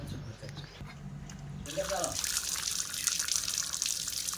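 Hot water gushes from a tap, starting suddenly after a few moments of quieter room sound and then running in a loud, continuous splash close by.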